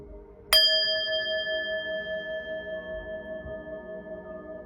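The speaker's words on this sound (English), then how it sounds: "I'm going to ring the bell" A bell is struck once to clear the energy before a reading, giving a bright metallic strike followed by a long, steady ring that slowly fades in a quiet room.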